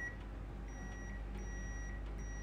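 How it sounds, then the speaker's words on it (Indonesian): A multimeter continuity beep sounds as the red and black probes touch: thin, high, intermittent beeps that are faint against a loud low hum. "Bunyi bip ini menandakan bahwa kedua probe ini terhubung."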